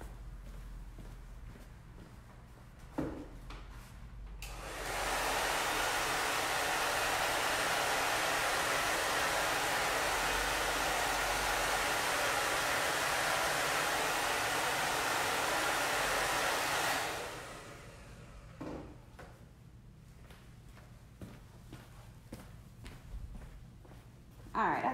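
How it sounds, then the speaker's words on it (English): A hair dryer blows a steady, loud broadband whoosh onto a watercolor painting of a Valentine's gnome for about twelve seconds, switching on and off abruptly, with quieter handling noises before and after. "I'm gonna go hit it with the hairdryer real quick"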